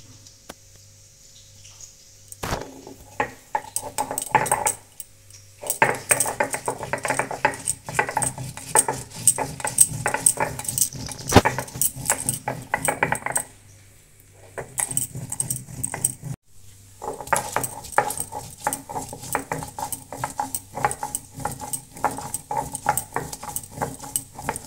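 One dried red chilli and four green chillies are ground into paste on a stone, with rhythmic scraping and knocking strokes in bursts separated by short pauses.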